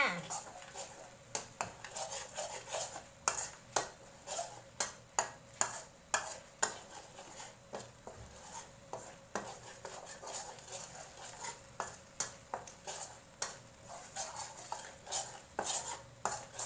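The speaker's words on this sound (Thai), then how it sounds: "ผัดเครื่องแกงจ้า" Curry paste for chicken curry is stir-fried in a pan, with a metal spatula scraping and clacking in a steady rhythm over a faint sizzle. The sound is close and fairly quiet.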